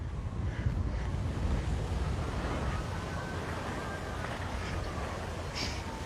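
Ocean waves crash on a Hawaii shore in a continuous loud surging wash, mixed with gusty wind buffeting the microphone.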